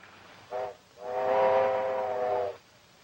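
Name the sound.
steam train whistle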